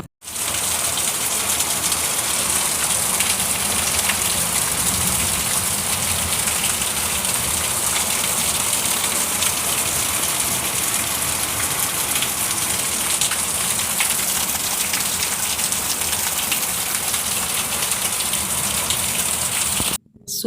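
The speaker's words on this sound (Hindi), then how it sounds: "सुना और देखा आपने कितनी भयानक बारिश हो रही है।" Heavy rain pours down in a dense, unbroken hiss at constant strength for about twenty seconds, loud and close, with no voices over it.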